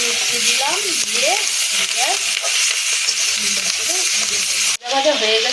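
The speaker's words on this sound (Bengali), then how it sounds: "লবণ হলুদ দিয়ে দিলাম, দিয়ে এবার সুন্দর করে ভেজে নেবো।" Onions frying in a pan with salt and turmeric for a Bengali fish kalia, a steady close sizzle running throughout with stirring and a short break near the end, while someone talks over it.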